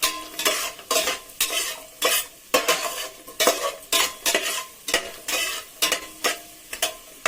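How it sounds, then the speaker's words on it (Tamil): Pineapple kesari stirred in a pan with a metal spoon, rhythmic scraping strokes about once or twice a second against the pan bottom, close and clear over a soft sizzle, no speech. "கை விடாமல் மிக்ஸ் பண்ணிகிட்டே இருக்கணும்."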